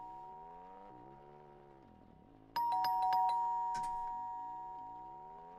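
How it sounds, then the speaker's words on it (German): A doorbell rings partway through, a loud, bright multi-tone chime with several quick strikes that ring on and slowly fade, over steady background music indoors at a home. "Chat, wer klingelt von euch? Wer ist von euch an der Tür?"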